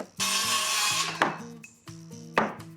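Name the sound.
hammering wood framing in basement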